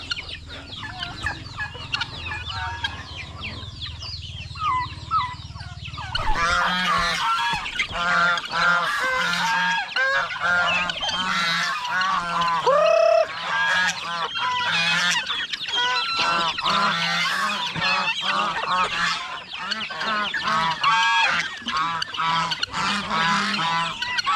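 A dense flock of turkeys on a farm gobbling and honking continuously, loud and close, with many overlapping calls after a quieter opening few seconds.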